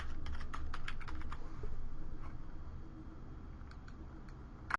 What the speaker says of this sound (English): let's just see what happens if we type in football